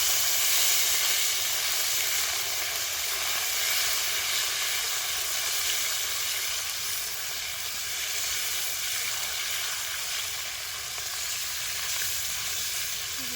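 Dried red chillies, whole bay leaf and tomato frying in hot oil in a pan for chicken biryani: a steady, loud, continuous sizzle and hiss throughout, close by, with no talking.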